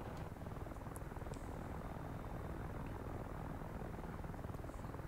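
An AH-6J Little Bird helicopter in the DCS combat flight simulator drones steadily with a dense, even rotor and engine hum that stays close and constant throughout, with no speech over it.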